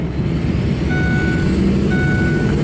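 Cabin sound of a Ford 6.0 Powerstroke crew cab truck on the road, with a steady low engine and road rumble and a few faint tonal beeps, with no talking.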